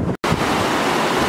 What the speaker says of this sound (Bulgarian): китното водопадче Броар Фос